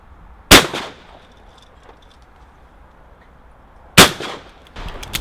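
Two sharp shotgun blasts at a clay shooting ground, spaced about three and a half seconds apart, each a loud crack with a short decaying tail, with faint clatter in the quiet between and just after.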